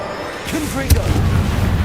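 The Confringo spell in Hogwarts Legacy bursts into a booming fiery blast, a sudden sharp impact followed by a low rolling rumble, with a voice shouting over the action.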